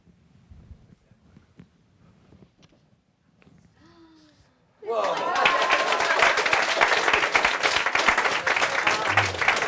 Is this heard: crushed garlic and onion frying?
no